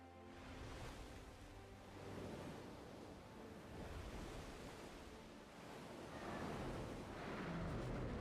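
Steady broadband wash of ocean surf in Black Desert Online, a continuous rolling roar that swells gently and stays loud throughout, with no talk over it.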